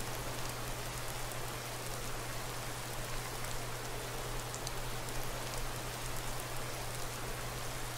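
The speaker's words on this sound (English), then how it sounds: "And it's still raining." Steady rain in the video game Skyrim Special Edition, a dense, even hiss of falling water with a faint low hum beneath, continuous and unbroken with no voices.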